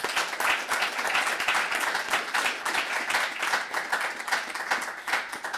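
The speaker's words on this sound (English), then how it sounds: "let's go ahead and give them a big round of applause." A graduation ceremony crowd claps steadily in sustained, even applause, dense and fairly close, holding its level throughout without voices.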